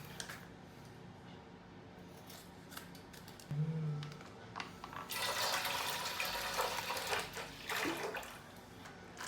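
Scissors snip a few times close up, with a short low hum and water-like rustling and clattering in the background.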